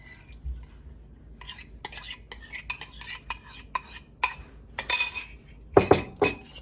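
Dressing is poured over pikliz, a Haitian pickle of shredded cabbage, carrot and hot pepper, then mixed, giving quick clinks, taps and stirring scrapes against a bowl, close and fairly quiet, with no talking.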